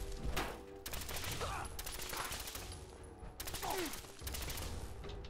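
Bursts of rapid automatic gunfire in the video game Fallout 4, several volleys separated by short pauses, with a voice speaking briefly between them.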